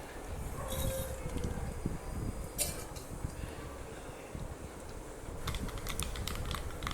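Mustard seeds and urad dal sputter in hot oil in a kadai for a goat head curry, a faint continuous crackle with scattered sharp pops and clicks, close and without talk.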